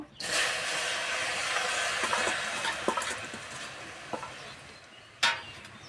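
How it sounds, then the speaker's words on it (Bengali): Washed water spinach greens hit a hot wok on a clay stove, setting off a close, steady sizzle broken by scattered stirring clicks and scrapes and one sharp clatter near the end. "উনানে কড়াই বসে দিয়েছি এবার ধুয়ে রাখা শাক দিয়ে দেব"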